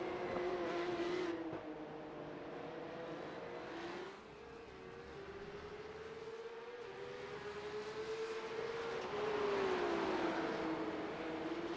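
Porsche Cup race cars at speed on the Zandvoort circuit in the Netherlands, a loud continuous engine drone rising and falling in pitch as they accelerate and shift, with several cars overlapping and no talk.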